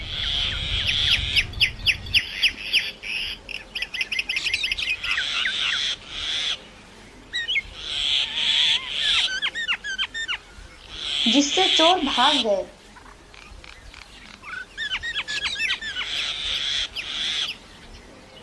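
In an animated story, birds attacking thieves give repeated bursts of shrill chirps and squawks, sometimes alone and sometimes mixed with a narrator's voice.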